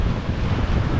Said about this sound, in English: We've got 26 knots of wind on us.